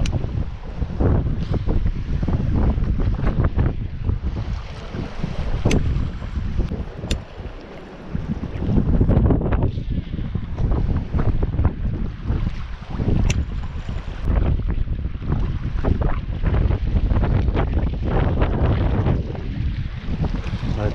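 Strong wind buffets the microphone in loud, gusty rumbles, with lake water and surf noise underneath throughout, at a boat launch while fishing.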